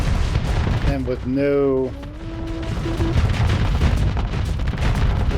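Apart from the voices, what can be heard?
ship weapons firing at pirate base, Starsector video game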